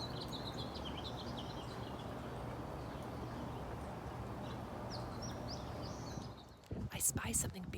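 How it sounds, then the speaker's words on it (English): Morning birdsong outdoors: faint, scattered high chirps over a steady wash of background noise, with a few louder rustling knocks near the end. "it's the morning and those birds I mentioned are chirping"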